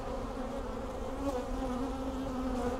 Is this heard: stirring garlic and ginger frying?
no